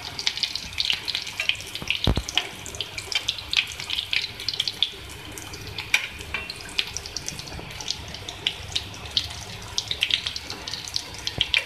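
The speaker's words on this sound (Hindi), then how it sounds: "ये बिल्कुल शैलो फ्राई होंगे और इसको मैं पलटूंगी।" Chicken potato cutlets shallow fry in a pan with a steady crackling sizzle of hot oil, dense and continuous, with a brief knock of the pan or utensil near two seconds.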